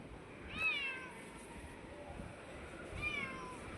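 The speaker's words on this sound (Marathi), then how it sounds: "म्याव म्याव करते म्हणून मांजर आहेस फक्त तू" A domestic cat meows twice, about two and a half seconds apart, each a clear rising-and-falling call at close range over quiet household background.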